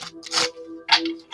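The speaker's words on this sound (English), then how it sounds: "shuffle these cards one more time" A deck of tarot cards is shuffled up close in quick papery bursts, two riffling flurries separated by a short pause, with no talking.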